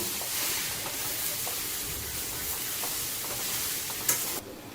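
Potatoes for potato chutney sizzle and hiss as they are stir-fried in a pan, a steady close frying sound with faint stirring scrapes and no talking.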